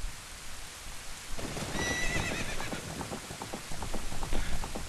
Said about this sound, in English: No sound effects beyond the horse and rain, either.